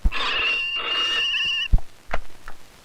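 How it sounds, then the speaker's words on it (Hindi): A telephone rings in a Hindi comedy scene with an electronic, tonal ring in two close bursts, fairly loud, followed by a few thuds and short sounds. "फोन उठा लो।"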